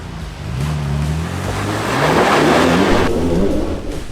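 A 4WD engine revs hard as the vehicle climbs a big rock step on a rough off-road track, loud and close, rising and wavering in pitch with a broad rushing roar that swells through the middle and continues to the end.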